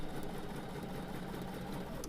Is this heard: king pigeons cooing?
no